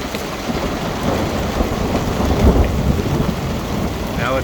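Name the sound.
thunder during a thunderstorm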